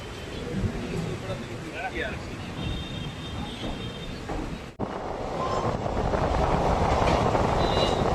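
The Kozhikode–Kannur passenger train pulls away from Vellayil station, a continuous rumble of wheels and carriage noise building steadily louder after a brief break, with voices faintly mixed in.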